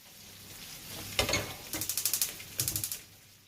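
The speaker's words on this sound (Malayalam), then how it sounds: "നന്നായിട്ട് മൊരിഞ്ഞ് പൊരിക്കണം എന്നാലാണ് മുള്ളനൊക്കെ ടേസ്റ്റ് ഉണ്ടാവുക" Mullan fish frying crisp in a pan gives bursts of close, crackly sizzling that come in quick rhythmic pulses, rising and fading over a few seconds.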